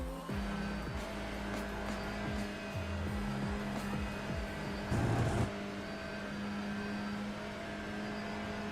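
A touring car engine heard from inside the cockpit in iRacing at Thruxton drones steadily at high revs, with brief shifts and a short surge around the middle, loud and continuous throughout.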